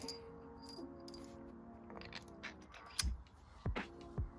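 Small metal hardware, a bolt and washer, clinks and rattles as it is handled while fitting Evotech crash sliders to a Honda CBR650R; a few sharp light taps and scrapes, close and fairly quiet, with no talking.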